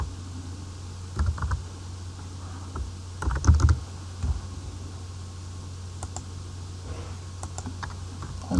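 Short bursts of keystrokes on a computer keyboard as a project name is typed into a Java NetBeans setup dialog, with quiet pauses between the clusters of clicks.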